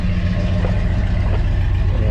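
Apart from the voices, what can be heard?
truck engine idling at a car meet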